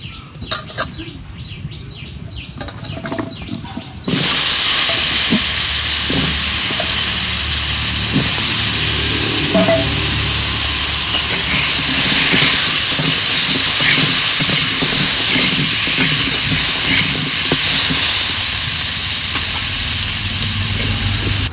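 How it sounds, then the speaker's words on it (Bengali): Potato pieces drop into hot oil left from frying fish, bursting into a loud, steady sizzle that continues close and unbroken after a quieter start with faint kitchen sounds. "এবার আলুগুলো মাছ ভাজা তেলে ভেজে নেব।"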